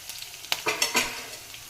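Mustard and cumin seeds sizzle in hot oil while poha suji bites are being made, with a few sharp crackling bursts over a low, steady frying hiss.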